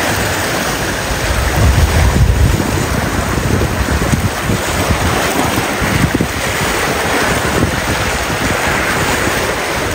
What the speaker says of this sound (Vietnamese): Biển miền Trung, biển Bình Định nha.